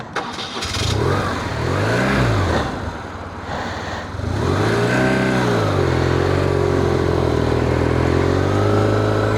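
A 2001 BMW R1150RT motorcycle engine, with a gear shift that struggles to drop from third to second, revs loud and close, its pitch climbing and falling through several gear changes with no talking.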